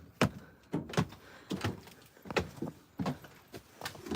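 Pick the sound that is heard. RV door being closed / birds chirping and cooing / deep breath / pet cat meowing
RV door being closed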